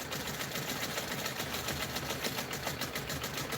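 Domestic sewing machine running at a slow, steady speed while free-motion stitching a pebble background fill, a continuous close mechanical whir with fine rapid needle pulsing and no talk.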